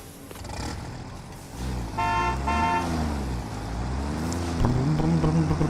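A truck horn honks in the video game Satisfactory: a loud, repeated two-tone horn blast over a rumbling engine, followed by a rising motor whine as the vehicle drives off.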